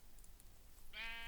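A Minecraft sheep lets out a single short bleat near the end, faint and distant against a quiet background.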